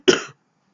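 A single short, sharp cough from a person recovering from a cold, close and dry, followed by silence.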